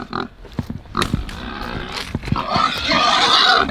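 Pigs grunt and squeal at feeding time on a farm, a mix of rough close grunts and higher squeals with clattering, overlapping and loud throughout.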